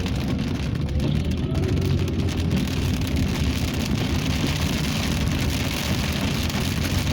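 Steady rain falls outdoors on a Labor Day weekend in Bullhead City, a dense, constant hiss of drops striking surfaces that holds at even loudness from start to finish with no voices.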